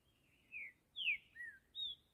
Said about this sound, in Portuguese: Olha a cantoria do passarinho, olha a voz, olha as notas.